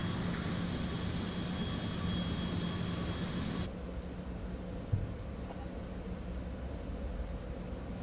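A Citation X jet engine in Microsoft Flight Simulator gives a steady broadband whine and rumble, the upper hiss dropping away abruptly partway through while a low drone continues.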